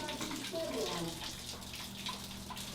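A shower runs with a steady, hissing spray of water, fairly close, with faint muffled voices underneath.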